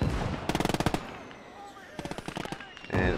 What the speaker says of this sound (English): And it looks like an MG.